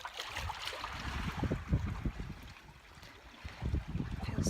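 Water washes steadily around ocean rocks on a windy shore, a constant broadband rush with small surging swells and some wind buffeting the microphone, heard close and alone.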